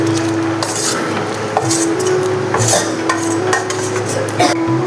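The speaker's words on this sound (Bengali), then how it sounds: "এখন আমি মাছগুলো এর মধ্যে দিয়ে দেবো।" Kachki fish going into a jute leaf sour mixture, with close, irregular clinks of a utensil against a pan and soft stirring sounds over a steady low background hum.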